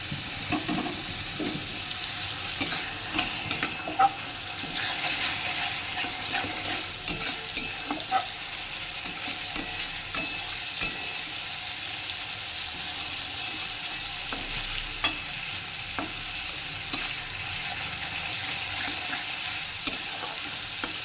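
Ground spice masala for Bengali prawn malai curry frying and being stirred in a pan, a steady bright sizzle with scattered spoon scrapes and clicks throughout, no talking.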